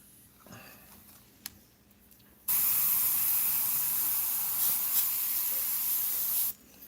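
Airbrush loaded with transparent Createx Illustration Colors paint bursts into a loud, steady hiss of spraying air that holds for about four seconds and then cuts off abruptly, following a quiet stretch with a few faint clicks.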